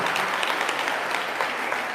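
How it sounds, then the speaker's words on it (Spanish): Dense applause from a church congregation in El Salvador, steady and loud throughout, with many hands clapping at once. "Un aplauso para ustedes."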